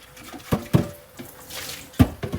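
Thin trickle of water from a slow-running kitchen faucet, with a few distinct splashes and drips at intervals close to the listener, no voices.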